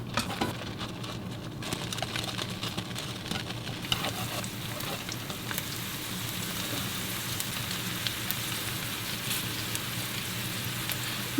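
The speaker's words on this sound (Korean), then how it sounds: "마늘을 구워 줄 텐데 마늘이 타면 맛이 없거든요" Garlic fries in oil in a pan over medium-low heat, giving a steady, gentle sizzle with soft crackling that continues throughout without speech.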